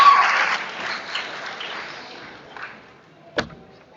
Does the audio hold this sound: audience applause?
yes